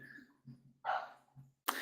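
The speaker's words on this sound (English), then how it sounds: "the dog is loud" A dog gives a couple of short, gruff barks at close range, quiet overall, with brief gaps between the bursts.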